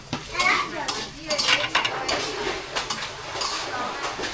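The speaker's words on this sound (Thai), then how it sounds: "กำลังผัดข้าวให้เด็ก ๆ" Rice being stir-fried in a pan for children, with repeated scraping and clinking of a utensil against the metal under a soft sizzle, plus brief talk.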